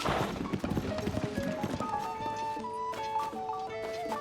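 Horse hooves clip-clopping in Zelda: Tears of the Kingdom, a steady run of hoof beats with game music tones layered over them, moderately loud throughout.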